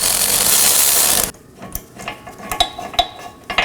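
Ratchet loosening the 18mm caliper bracket bolts on the rear knuckle of a 2018-2024 Chevrolet Equinox: a loud steady burst of noise, then a run of sharp, close metallic clicks at an uneven pace.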